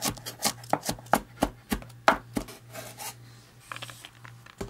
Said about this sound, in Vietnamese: Tỏi thì mình dùng 2 tép vừa, đập dập và băm nhuyễn.